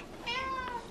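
A house cat gives a single, clear meow close by, rising and then falling in pitch before trailing off, with a quiet room behind it.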